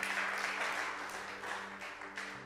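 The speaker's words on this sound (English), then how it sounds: "Come on, you can clap for that." A church congregation applauds in a steady, dense wash of clapping that fills the whole moment, fairly close and without pause.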